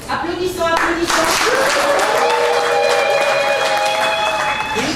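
A wedding crowd applauds and cheers steadily, with voices and a high whistle-like tone mixed into the loud, continuous clapping.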